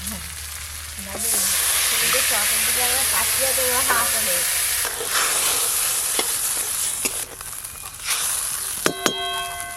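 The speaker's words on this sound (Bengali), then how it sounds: "এবার কাঁচা আমের শুটকি আর কাঁচা আমের শুটকির জল দিয়ে দেবো।" Dried raw mango and its soaking water hit a hot pan of chillies and turmeric on a clay stove, setting off a loud, steady hiss and sizzle that swells and holds, with a few clanks of a utensil near the end.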